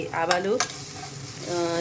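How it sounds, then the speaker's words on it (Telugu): Cumin and mustard seeds sizzle and crackle in hot oil while a spoon stirs and scrapes the pan, close up and steady. "జీలకర్ర ఆవాలు వేసి వేయించుకుని"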